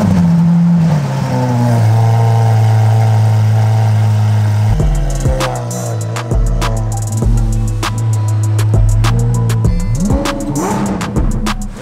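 A Toyota Supra engine runs loudly up close, holding a steady idle tone before a series of sharp, rising revs and blips with crackling pops in quick succession.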